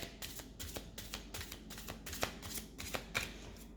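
A deck of small cards being shuffled on a table, a fast series of crisp riffling flutters, close and fairly quiet with no voice.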